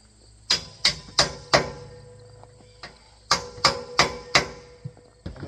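A hammer bangs a Velocirax 7 bike rack into a vehicle's hitch receiver, sharp metallic blows in two quick clusters of four, close and loud with short ringing decays and no talk.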